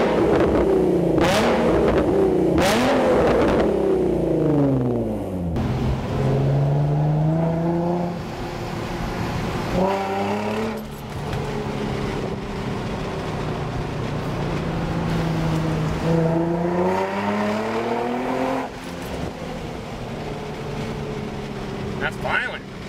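An Infiniti G35 fitted with a Motordyne exhaust revs repeatedly, each pull rising and falling in pitch with a throaty, loud growl, and a voice talks over parts of it.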